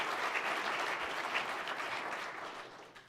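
A burst of applause from a crowd, dense steady clapping that slowly fades over a few seconds.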